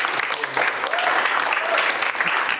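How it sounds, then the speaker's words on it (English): Audience applause at a talk on politics, a steady wash of many hands clapping for the whole stretch, fairly close and continuous, with some voices mixed in. "So let's give Mike a round of applause."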